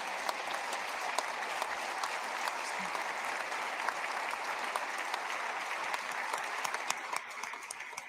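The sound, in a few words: audience applause for a senator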